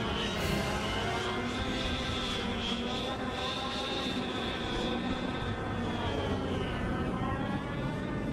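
Bomber aircraft in the Star Wars Battlefront video game flying in for air support, a steady loud engine roar and rushing drone sustained throughout with no break.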